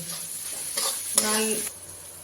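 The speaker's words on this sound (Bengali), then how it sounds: "পেঁয়াজটা লাল করে ভাজতে হবে" Onions salted and frying in a pan sizzle softly while a utensil stirs and scrapes them in a few short bursts, close by with no talking.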